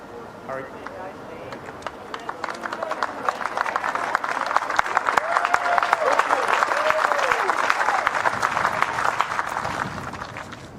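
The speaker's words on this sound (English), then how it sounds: "Just New Zealand fans applauding, the entire audience here" New Zealand fans and the whole audience at the 2016 World Bowls men's singles final between Canada and New Zealand applaud, a dense, steady roll of clapping that swells and holds while a commentator talks over it.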